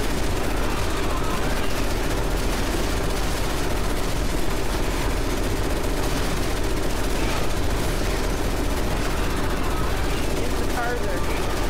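Gunfire in Resident Evil 6 rattles on continuously in a loud, dense barrage with a heavy rumbling backdrop, as a voice talks over the shooting.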